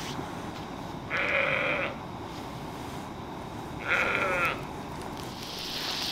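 Two separate sheep bleats at an island wild camp, each about half a second to a second long, stand out clearly over a steady rumbling background.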